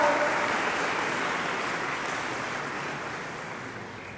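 An award ceremony audience applauds, a dense wash of many hands clapping that starts loud and slowly fades over a few seconds.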